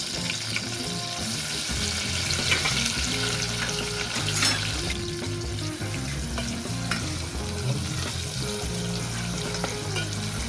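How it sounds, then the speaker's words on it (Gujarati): Onions and tomatoes sautéing in a pan make a dense, continuous sizzle throughout, close and fairly loud, with faint stirring noises and a hum underneath. "આપણે 10 મિનિટ ટમેટાને ડુંગળીને સડવા દઈશું।"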